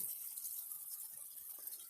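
Tap water runs into a sink while black-and-white film is being developed, a faint, steady hiss of flowing water with no other sound.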